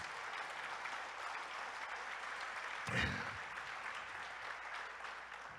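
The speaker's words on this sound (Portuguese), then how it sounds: "Você pode dar um aplauso a Jesus?" A church congregation applauds in a steady, even wash of clapping that fills the room, with one brief louder thump midway.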